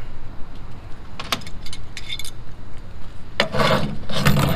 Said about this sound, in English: So what we're gonna do is take this bolt out.